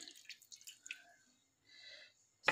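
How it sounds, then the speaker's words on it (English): Hot water splashes and drips onto paneer in a bowl, a few soft irregular pours and trickles close by, ending with a brief sharp clink. "I'm going to add a little bit of hot water into this paneer."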